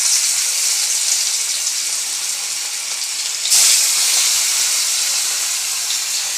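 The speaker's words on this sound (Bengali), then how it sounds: "মাছটা ভেজে নিই।" Fish frying in a pan, a steady loud sizzling hiss that swells briefly midway and then continues evenly, close and with no talking.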